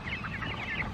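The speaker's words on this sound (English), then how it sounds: "I'm gonna try to catch this chicken and put it in." Wild chickens cluck in a steady stream of close, mid-pitched calls as someone tries to catch one and put it in a pen, the clucks blending into a busy farmyard background.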